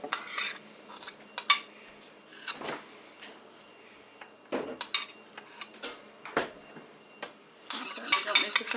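Metal spoon scraping beaten egg from a mixing bowl while making a chocolate pie, a series of sharp clinks and scrapes with quiet gaps between them, close and fairly soft.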